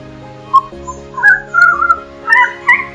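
Several clear, whistled bird calls on Lord Howe Island, recorded near cabins, rising and falling, repeated in short bursts over a soft sustained musical drone.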